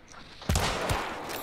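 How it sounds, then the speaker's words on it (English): A grenade blast erupts in the Hunt Showdown multiplayer shooter after a short quiet, followed by a quick second boom and a sustained rumbling burst of gunfire that lingers, fairly distant and loud. "Threw a grenade."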